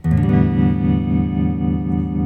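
Electric guitar played through a '65 Deluxe Reverb reissue amp with the vibrato on: a single loud sustained chord, struck once, ringing out with a steady pulsing wobble and no talking.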